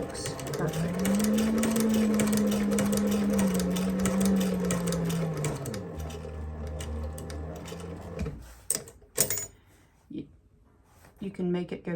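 A Techsew 2900 leather and cobbler sewing machine stitches around a patch on a vest. A steady, close motor whir runs for about six seconds, then slows into short, halting bursts of stitching with pauses. A voice talks over it.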